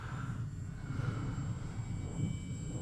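A 3D-printed RC model airplane, a printed PZL scale model, drones steadily overhead at a distance, its thin engine whine continuous under wind and outdoor ambience.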